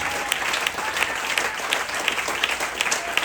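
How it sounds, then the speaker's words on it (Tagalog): Steady, dense applause from a church congregation at a worship service in Muntinlupa, many hands clapping together throughout with no voices standing out. "Pwede ba yung malakas na palakpak para sa ating Panginoon?"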